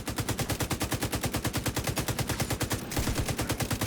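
Sustained rapid automatic fire from a light machine gun in a video game, loud and close with an even, unbroken rhythm of shots for the whole stretch.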